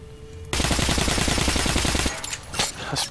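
Rapid automatic gunfire in the video game Metro Last Light, a loud sustained burst of evenly spaced shots lasting about a second and a half, followed by quieter scattered impacts and noise.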